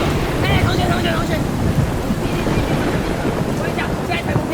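Typhoon storm sound effect of roaring wind and rumbling thunder, a loud continuous buffeting rush with faint chirping squeaks over the top.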